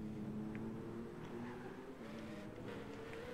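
A Le Mans prototype race car engine in Gran Turismo 5 at Tsukuba gives a faint, thin, buzzing whine with slowly shifting pitch, held low and steady in the background.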